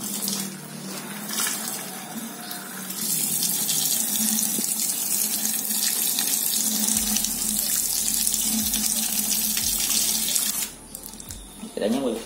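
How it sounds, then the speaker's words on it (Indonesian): A kitchen or bathroom tap is turned on and runs steadily for about eight seconds, filling a container with a loud constant gush, then stops near the end, leaving a few small splashes and drips. "Ini langsung aja kita nyalain dulu airnya."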